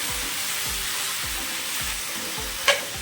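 Vegetables for veg biryani fry in a pan with a constant close sizzle while a spoon stirs them in a regular scraping rhythm, ending with one sharp knock.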